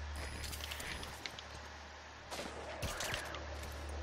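Quiet fires her unsuppressed tranquilizer sniper rifle in Metal Gear Solid V: The Phantom Pain, giving two sharp, loud reports a little apart over a steady low in-game ambience.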